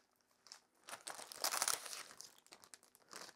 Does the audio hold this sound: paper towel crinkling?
yes